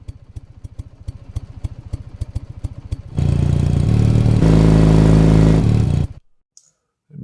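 A looping engine sound effect, heard first as a rapid, regular putter of low pulses, then swelling into a loud, steady, sustained roar that rises in pitch before cutting off abruptly into silence.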